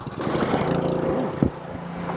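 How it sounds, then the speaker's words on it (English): A snowblower engine runs steadily nearby with a buzzing, lawnmower-like drone and slight pitch wavers, plus a short clunk near the middle. "It's a snowblower."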